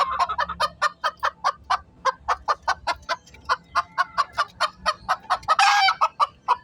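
A labuyo junglefowl cross gamecock, mother pure labuyo, gives a long run of rapid, loud clucking calls in an even rhythm, close by, ending in a brief harsher crow-like call.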